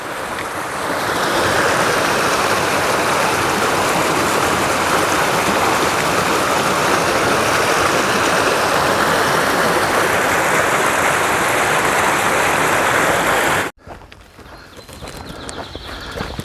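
A steady, full rush of water from a stream flowing beside a log bridge on the Appalachian Trail, a dense continuous wash close by that suddenly cuts away, leaving quieter outdoor ambience.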